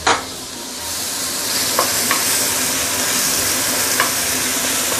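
Rempah spice paste sautéing for Indonesian nasi goreng, a steady loud sizzle and hiss of frying with a few sharp stirring scrapes of the spatula against the pan, no voices.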